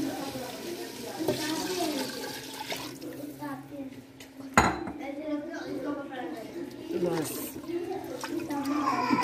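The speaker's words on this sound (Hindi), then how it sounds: "अब इसके पानी ऐड कर दें शोरबे।" Water splashes into a cooking pot of fried potatoes and peas for a green chana curry, with a sloshing pour and clinking of metal utensils against the pot, while a voice speaks nearby.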